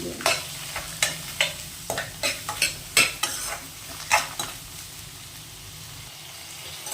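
Chopped tomatoes sautéing in a pan for a peanut tomato chutney, stirred with a utensil in rhythmic scraping strokes over a soft steady sizzle, close and clear with no talking.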